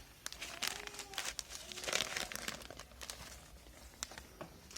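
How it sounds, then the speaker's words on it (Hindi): A polythene bag is torn and peeled from the sides of a plant's root ball, giving close, quiet crinkling and ripping with small irregular crackles and bursts of plastic rustle. "इसकी हमें पॉलीथीन को इस तरीके से फाड़ देना है साइड से"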